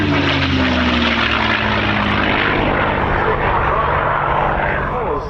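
A P-51 Mustang with a Merlin engine flies at the RAF Cosford air show, giving a loud, continuous propeller and engine roar. The pitch slides down early on as the aircraft passes, and the drone holds steady for several seconds.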